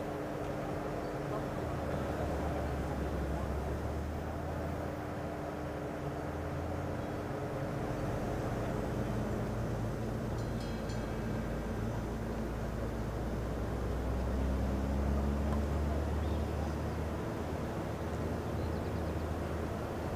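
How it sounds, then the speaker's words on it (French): A Pipistrel Alpha Electro electric airplane takes off at the Paris Air Show 2019, giving a continuous whirring hum and airy rush. The sound holds steady, then swells slightly in the second half, with no talking. "je vous ai laissé profiter du décollage de cet avion"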